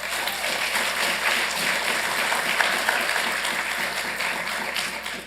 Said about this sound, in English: Let's give this young man a big round of applause